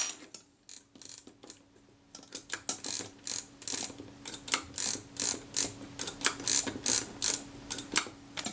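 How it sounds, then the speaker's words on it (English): Close mechanical ratcheting and clicking as a spanner tightens the take-up spool of a Retina II type 011 camera with Ektar lens, with quick clicks that build into a steady, rhythmic sequence. "So I've got my spanner here to hold the top of the take-up spool."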